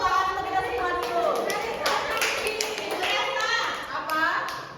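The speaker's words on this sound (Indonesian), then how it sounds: "Kita kasih tepuk tangan untuk kita semua dulu." A primary classroom of children claps together in a quick burst of applause, mixed with young voices and a teacher speaking over the sharp, close hand claps.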